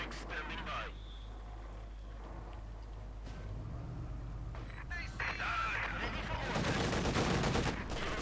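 Gunfire in the real-time strategy game Company of Heroes 2, with bursts of small-arms shots rattling steadily through a dense battle mix and a louder cluster near the end, while a commentator talks over it.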